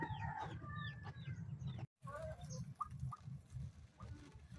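Chickens and ducks at a village farmyard, several hens clucking and a rooster calling close by in overlapping bursts, with a brief dropout partway through and no speech.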